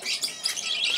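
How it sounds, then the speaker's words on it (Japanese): A young Bourke's parakeet of the rubino colour chirps in quick, bright, continuous tweets, close and fairly loud, with no other sounds. "これが秋草インコルビノーです"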